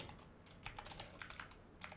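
Rapid, uneven keystrokes on a computer keyboard while entering code in a WordPress editor, close and fairly quiet, heard alone with no talking.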